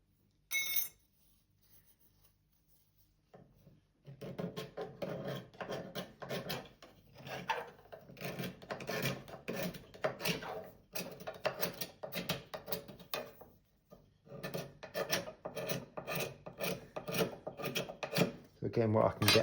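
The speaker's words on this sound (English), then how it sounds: "So I'm swapping between a large cabinet scraper and one of these mini scrapers." A cabinet scraper rasps over the wood inside a wooden plane in repeated short strokes, a dry scratchy rhythm that starts after a quiet pause and carries on in bursts.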